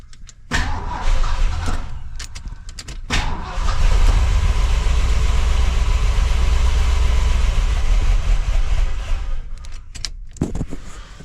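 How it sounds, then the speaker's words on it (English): 1973 Ford LTD engine, left parked in a barn for 38 years and running noisy with an oil light on, cranks and catches into a rough, loud, steady idle with low rumble, then cuts out near the end. "the motor's still a little noisy."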